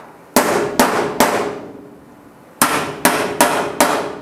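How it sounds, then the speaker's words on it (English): A metal jig clamped to a 1939 Hudson rat truck wheel arch is tapped into place with a hammer: seven sharp, ringing clanks in two quick groups of three and four, loud and close. "you can just clamp it on roughly and then you tap it into place"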